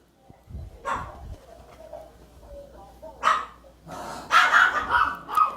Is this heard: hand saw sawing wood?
no